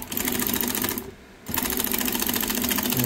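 A single-needle high-speed industrial sewing machine with a buttonhole attachment stitches a polo shirt, its rapid steady mechanical whir loud and close, cutting out briefly for a moment before resuming at full speed.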